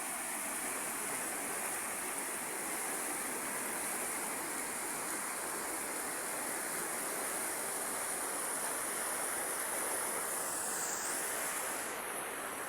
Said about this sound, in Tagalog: Malakas naman ang agos niya pero mababa pa.